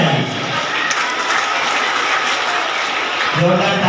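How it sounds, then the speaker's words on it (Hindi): Dense, steady applause from a crowd at a school Independence Day celebration in a village, filling the whole stretch at close range with a faint voice rising near the end. "तालियां बजाइए।"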